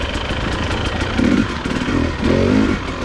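A 2021 Husqvarna TX300i two-stroke off-road motorcycle engine revs in a few rising bursts over a steady running drone, close and fairly loud, with no talking.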